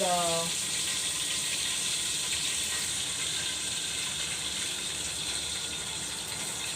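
Steady hissing sizzle of water in a hot pot, constant and close, with a brief short tone at the very start.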